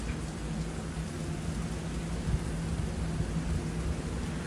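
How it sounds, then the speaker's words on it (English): Steady rain falling in Ottawa, Canada, a dense continuous hiss of drops on surfaces with a low rumble underneath, even and unbroken throughout. "Lovely, beautiful raindrops, raindrops"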